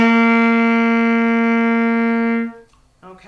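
A saxophone plays the closing two bars of a beginner piece, ending on a long held G that rings clear and close, then stops abruptly with a faint sound after.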